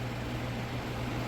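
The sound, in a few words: electric fan running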